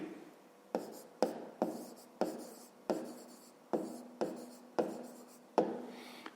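A pen writes on paper, close up, in a series of about ten short scratchy strokes with brief gaps between them, no talking over it.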